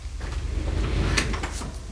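An old hotel door is pushed against resistance down a hallway, with dull scraping and a few sharp knocks and creaks over about two seconds, close by.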